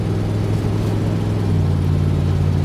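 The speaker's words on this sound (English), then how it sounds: "It takes a while to get used to it revving so high" A 600 hp supercharged (ProCharger) Ford Mustang engine drones steadily at high revs, a dense low hum from inside the car with no talking.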